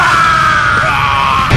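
Goku's Kaioken scream from a Spanish-language anime dub, one sustained, loud, strained yell held for the full length without a break.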